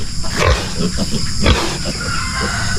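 Loud, close grunting and low snorting from a sow that has just finished eating, coming in rough bursts over a noisy, buzzing background.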